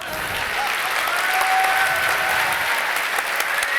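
A conference keynote audience bursts into sustained, dense applause, many hands clapping loudly and evenly for a few seconds without pause.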